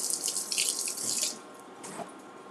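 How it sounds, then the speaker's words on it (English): A spatula is rinsed under a running kitchen tap, with a steady hiss of water that drops off partway through, leaving a softer trickle and a faint clink. "let's rinse the spatula off"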